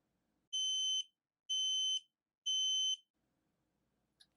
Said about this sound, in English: so I'll test the alarm